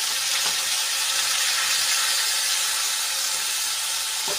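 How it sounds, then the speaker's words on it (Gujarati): Grated onion hitting hot oil with sizzled ginger-garlic-chili paste, a loud, continuous close-up sizzle and hiss with no talking. "તો એમાં આપણે 2 ખમણેલી ડુંગળી એડ કરી લઈશું"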